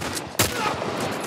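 A single loud gunshot bursts out about a third of the way through, from enemy gunfire in The Last of Us, over a steady low game-ambience hiss.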